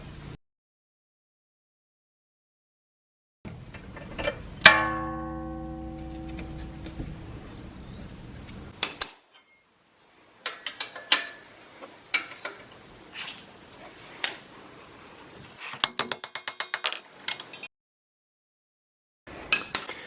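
Wrench work on the rear brake caliper bolts of a Lexus GS350 F Sport: a series of sharp metallic clicks and clanks, some in quick ratcheting bursts, with one ringing tool strike and short gaps of silence between them.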